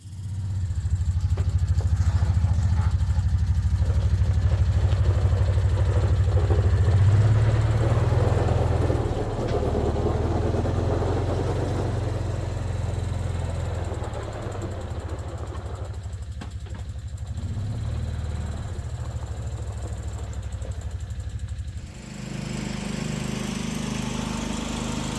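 A side-by-side UTV engine runs loud and steady at close range as the vehicle is driven out, its low drone easing slightly partway through and continuing without speech.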